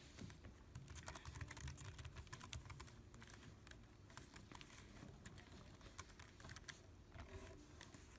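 Password being typed on a computer keyboard, steady quick key clicks in an uneven rhythm, close and fairly faint, with no talk over it.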